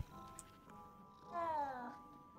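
Cat sound from the video game Hogwarts Legacy as the player pets a cat near a quill shop, a soft close murmur with a brief tonal rise in the middle, faint game ambience around it.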